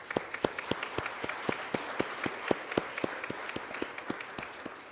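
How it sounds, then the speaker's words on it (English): Audience applause at a C20 midterm meeting for the panelists, a steady patter of many hands clapping with regular sharper claps standing out, moderately quiet and sustained throughout. "a huge round of applause again for all of our incredible panelists"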